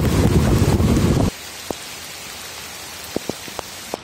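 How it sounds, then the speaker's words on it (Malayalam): Heavy rain pours loudly at Malayattoor lake for about a second, then drops to a soft patter with a few scattered drips tapping nearby. "ഇവിടെ ഇപ്പം നല്ല മഴയാണ് കേട്ടോ"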